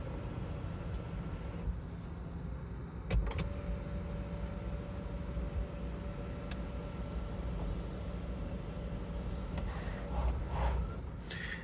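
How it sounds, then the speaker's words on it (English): A motor hums steadily inside an Audi Q5 45 TFSI quattro S line as its electric panoramic glass sunroof opens smoothly and quietly, with a couple of faint clicks and a soft whirr throughout. "Front pane tilts and slide, rear pane fixed. Open that up now. That's nice and smooth and quiet in operation."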